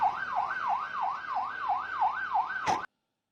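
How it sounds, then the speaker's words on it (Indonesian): An ambulance siren wails in a fast, regular up-and-down yelp, loud and close, about nine cycles before it cuts off abruptly into silence. "bunyi sirene ambulans terus berbunyi"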